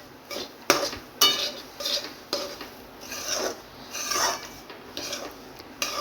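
Semolina and milk mixture for rava barfi stirred and scraped in a pot, giving rough rasping strokes with occasional clinks of a spoon, close and fairly loud.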